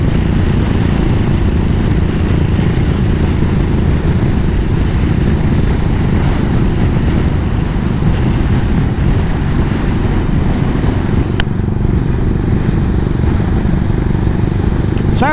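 Royal Enfield Continental GT motorcycle being ridden, a steady loud engine rumble mixed with heavy wind buffeting across the helmet, continuous throughout with no talk.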